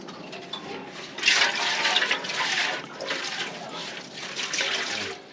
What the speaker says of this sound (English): Tape up the hole on the top and shake it around.